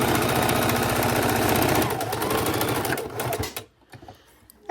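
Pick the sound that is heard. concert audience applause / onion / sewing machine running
sewing machine running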